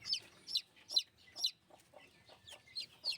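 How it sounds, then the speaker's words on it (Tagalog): A mother hen and her newly hatched chicks cluck in a series of about eight short, fairly close calls at a steady uneven rhythm, with soft peeping between them and no talking. "Nahanap nilang inahin nila."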